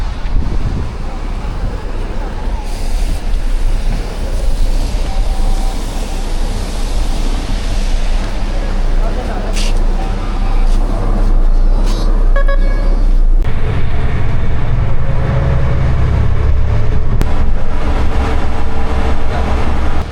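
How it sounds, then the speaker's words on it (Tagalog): Route 102 city bus in Abu Dhabi, bound for Yas Mall: a steady rumbling ride with wind-like hiss, the low drone growing heavier and louder partway through, with faint voices in the mix. "Yan na yung bus natin."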